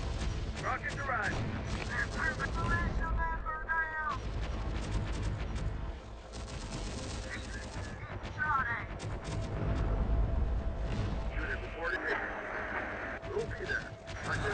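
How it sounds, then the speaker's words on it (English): Rocket strikes land amid steady battlefield noise in the Terminator Dark Fate: Defiance video game, a dense, continuous roar of impacts and rumble with scattered sharp cracks, loud throughout. "Rockets arrived."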